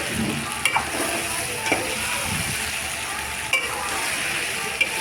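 Brinjal curry pieces sizzle steadily in a pan while being stirred, with a constant frying hiss and occasional sharp scrapes and clicks of the spoon against the pan.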